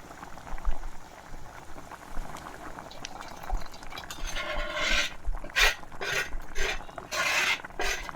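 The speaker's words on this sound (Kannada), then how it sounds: "ಗುಲು ಗುಲು ಆಗ್ತಾ ಉಂಟು." Chicken green masala boils steadily in a pot, a continuous close bubbling and gurgling with brighter sputtering pops toward the end, with no talking over it.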